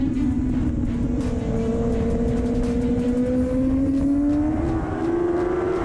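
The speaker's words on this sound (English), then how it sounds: "Green flag as we take a ride on board around this beautiful Aldo Scribante Raceway" Onboard superbike engine from a ZX10 racing machine lapping Aldo Scribante Raceway, a loud steady drone that rises in pitch as the bike accelerates, with constant wind rush and no gaps throughout.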